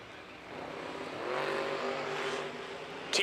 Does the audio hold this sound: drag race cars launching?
yes